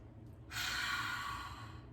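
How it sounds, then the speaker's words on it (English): Children drawing a deep breath together, a single soft, breathy inhale that swells suddenly and holds for over a second before easing off, heard fairly close without any talking. "Rub your hands, sit up tall, take a deep breath."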